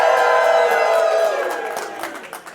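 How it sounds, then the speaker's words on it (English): Live audience at a Survivor 50 cast evening with Jeff Probst letting out a big loud cheer with whoops and clapping, swelling at once and slowly fading over a couple of seconds. "You guys make a big cheer."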